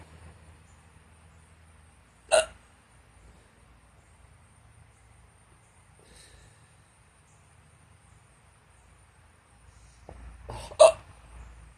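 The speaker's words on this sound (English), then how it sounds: "But I have hiccups right now." Two sharp hiccups from one person, the first near 2.4 seconds and the second near 11 seconds, each short and close to the microphone, with quiet low background rumble between them.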